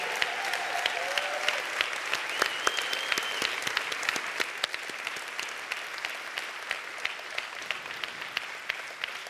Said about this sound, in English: please, a big applause to Mr. László Kocsó and to Mr. István Böckös